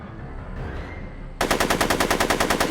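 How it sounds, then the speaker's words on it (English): Gunfire in the Back to the Future video game: after a short quieter stretch, a loud machine-gun burst erupts with a fast, even rhythm of sharp shots that continues to the end. "I'm finding it difficult to concentrate with all the bullets flying around my head"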